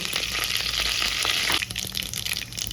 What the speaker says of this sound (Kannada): ಎಣ್ಣೆ ಕಾದ್ಮೇಲೆ ಸಾಸಿವೆ,